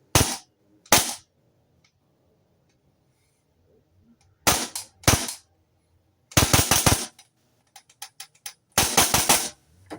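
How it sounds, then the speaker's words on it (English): A Vorsk VMP1X airsoft rifle fires sharp, loud cracks close by, first single shots spaced apart and then quick clusters of rapid shots, with near silence between them. "here we are with my Vorsk VMP1X. It's got full auto and semi-auto, so here's the semi-auto"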